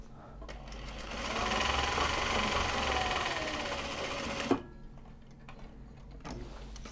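A sewing machine stitching a bag of Japanese fabric runs steadily for about four seconds, then stops with a sharp clunk, followed by quiet handling noises.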